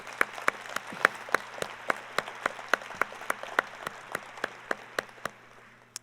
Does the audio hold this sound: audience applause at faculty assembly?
yes